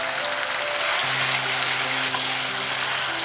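Tomato masala sizzling steadily in hot oil after Kashmiri red chili powder is stirred in, a dense, continuous frying hiss close up with no pauses.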